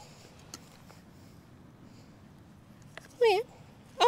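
Nokta Legend metal detector sounding over a buried $2 coin while shoreline detecting: a short, bright warbling tone rises and falls, then cuts off, followed by a second tone at the very end, both clear over faint background noise.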